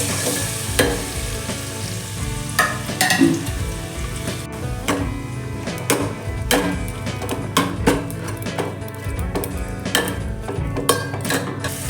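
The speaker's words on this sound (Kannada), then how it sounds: "ಸ್ವಲ್ಪ ಕೊಕೊನಟ್ ಆಯಿಲ್ ಹಾಕಬೇಕು ಒಂದು ಈರುಳ್ಳಿ ಎರಡು ಹಸಿಮೆಣಸಿನ್ಕಾಯಿ ಒಂದು ಟೊಮೆಟೊ ಫ್ರೈ ಮಾಡಬೇಕು" Onion, green chillies and tomato frying in coconut oil for a Mangalore-style fish curry, with a steady loud sizzle under repeated scraping and clinking stirs against the pan, close up and without talk.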